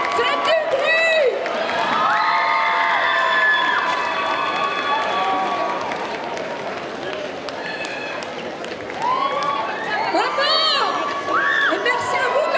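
A crowd cheers and whoops for costumed performers at the close of a Sunday cosplay parade at a geek festival in Bordeaux. The noise is loud and sustained, with shrill shouts and voices rising over a constant crowd roar.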